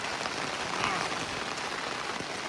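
Steady rain falling outdoors in the Khövsgöl taiga during a horseback trip, a dense broadband hiss holding evenly throughout, close and moderately loud.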